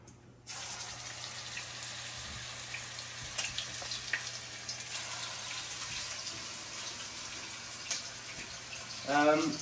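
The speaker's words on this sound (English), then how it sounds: "I already have my meatballs ready, and now I'm gonna add them on top of the oil" Afghani kofta meatballs drop into hot oil and fry with a steady, close broadband sizzle that starts abruptly and holds for several seconds, with occasional pops and crackles and a brief tonal clatter near the end.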